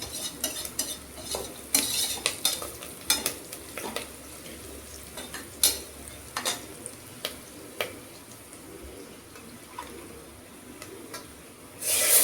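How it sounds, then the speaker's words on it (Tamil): Coconut milk, four tumblers of it, being stirred into a cooking pan with a metal spoon, giving intermittent scrapes and clinks against the pan over a faint low sizzle, with no talking. "இப்போ இதில் வந்து பாலை சேர்த்துருவோம்."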